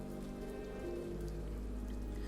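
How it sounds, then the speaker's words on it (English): Rain falls steadily in Ender Lilies, a continuous patter over a low, sustained musical drone with no voices. "But then the rain began to fall."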